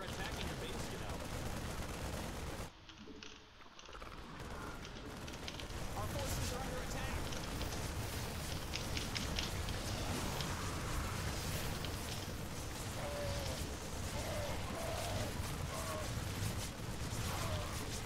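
Units fire on a base in a StarCraft match, producing dense, continuous gunfire and battle noise. It runs steadily throughout, with a brief dip early on, and the game's voice lines speak over it.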